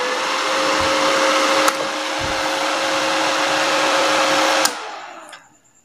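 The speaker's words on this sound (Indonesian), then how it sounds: "Dan saya nyalakan mesinnya." A RYU RII120-2 450-watt inverter welding machine, which has a flickering power light, runs with a steady whirring fan hum and faint electrical whine, gives a couple of sharp clicks, then winds down to quiet.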